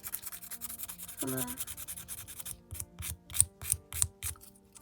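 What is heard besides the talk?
buffing a fingernail with rough side of nail buffer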